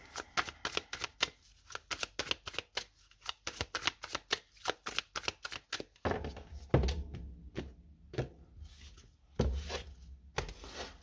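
A deck of oracle cards is shuffled by hand, a quick run of crisp papery flicks and slaps, then heavier thumps and rustles as the cards are knocked together. Close and fairly loud, with no voices.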